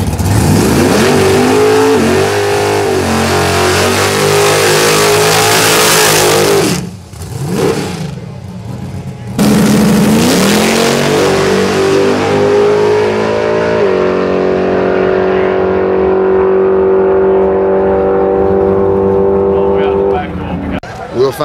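A Mustang street car engine revs hard and roars loudly at a drag race, rising and falling in pitch with a brief drop-off, while a voice talks over it.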